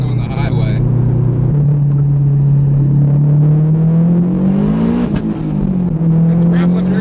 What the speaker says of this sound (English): We're gonna do a nice little rip here getting on the highway